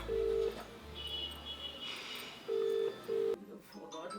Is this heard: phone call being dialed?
yes